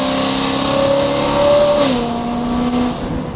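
A car engine revs steadily while driving, its pitch rising and falling through gear changes and held close and loud for the whole stretch, with no talk over it.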